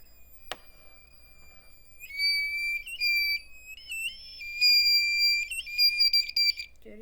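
A sharp click, then a loud piezo buzzer on an Arduino, triggered by a distance sensor, beeps in uneven bursts of varying length, piercing and close, with no talking.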